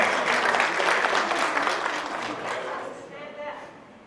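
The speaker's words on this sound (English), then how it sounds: "Let's give them a round of applause." An audience at a community awards ceremony breaks into sustained applause that stays dense and loud, then thins and fades toward the end.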